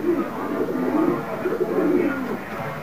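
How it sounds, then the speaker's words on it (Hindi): Pigeons cooing close by, a steady overlapping chorus of low, throaty rolling coos that continues without pause through the whole stretch. "कबूतर टूट आए हैं दोस्तों"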